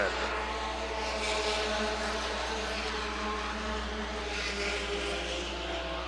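Race cars roar in a steady, loud engine drone at Rockford Speedway, a short oval track, as the field takes the green flag in 1996, with continuous broadband noise from multiple cars.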